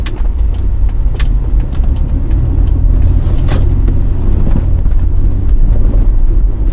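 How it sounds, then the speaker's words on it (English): A Toyota Prado fitted with a Lokka auto locker is pushed under hard throttle around a right-hand roundabout on the road, with a loud, sustained engine roar mixed with rushing wind and road noise and no pauses. "I will attempt hard throttle on the right hand roundabout."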